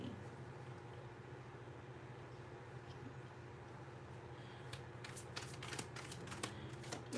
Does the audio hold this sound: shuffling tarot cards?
yes